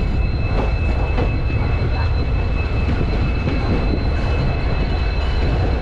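A train pulls into Dibrugarh Town railway station in Assam, a loud, continuous rumble of wheels on rails with a faint steady whine, heard close from on board.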